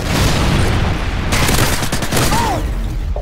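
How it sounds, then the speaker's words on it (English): A Predator missile strike in Call of Duty Modern Warfare 2 multiplayer hits with a loud, rolling explosion amid scattered gunfire, then a sharp crack and debris rumble trailing off. "Predator missile inbound."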